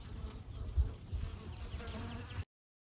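A dense, steady buzzing of many honey bees, including drones, fills the clip at close range during a spring hive inspection, continuous and low, ending abruptly.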